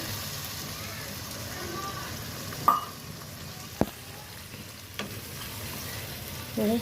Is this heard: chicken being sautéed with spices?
yes